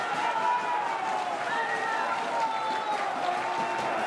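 Fans at a Hessenliga amateur football match cheer and shout after a late goal, a sustained, somewhat distant crowd roar with rising whoops and whistles.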